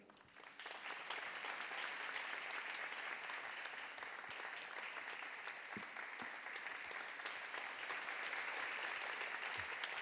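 A church congregation at an evening praise service claps warmly to welcome a deacon to the front, a full, steady wash of applause that swells in quickly and holds without talk.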